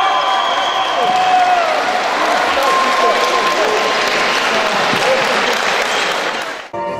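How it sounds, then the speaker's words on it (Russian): Athletes walk onto the field at a sports day closing ceremony to loud, dense applause from a crowd, sustained and even throughout before dropping off abruptly at the very end. "Под бурные аплодисменты участники вышли на поле."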